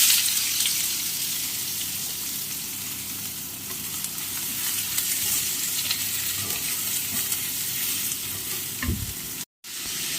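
Chopped onions fry in about three tablespoons of oil in a small pan for chicken masala, a steady close sizzle with occasional stirring scrapes throughout.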